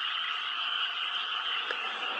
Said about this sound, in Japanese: この5月の季節、カエルがもうすごい勢いで鳴いてますね。